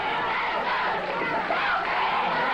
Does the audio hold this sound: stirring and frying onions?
no